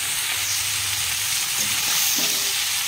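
Ash gourd pieces frying in hot oil over a black cumin tempering, a loud continuous sizzle with stirring scrapes throughout, no voices present.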